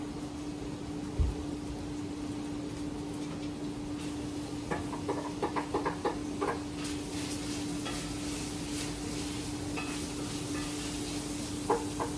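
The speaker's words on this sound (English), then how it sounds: "I am going to go toss this over in the frying pan with the bacon real quick." Soft steady sizzling of onions frying in a pan with bacon, with a low hum and a few faint clinks and stirring sounds.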